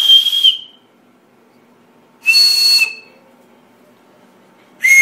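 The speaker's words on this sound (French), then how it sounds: "C'est pour ça qu'on appelle ça un sifflet de train." A four-hole train whistle blown by mouth gives three separate chord-like blasts, each about half a second long with quiet gaps between them. It sounds bright and shrill, clear and close.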